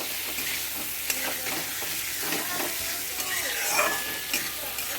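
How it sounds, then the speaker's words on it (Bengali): Spices for a katla fish curry with cauliflower and potato sizzle in oil as they are stir-fried until the oil separates, a constant close hiss with light scraping strokes throughout. "এবার আমি এর মধ্যে আরেকটু নেড়ে চেড়ে কষিয়ে"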